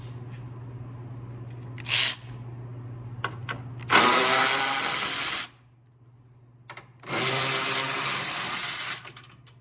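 A power tool with a 10 mm socket spins out the grille bolts on a 2014 Ram truck, giving one short whir and then two longer loud runs separated by quiet pauses, with no voices.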